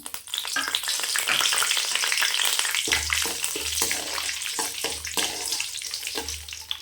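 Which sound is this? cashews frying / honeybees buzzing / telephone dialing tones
cashews frying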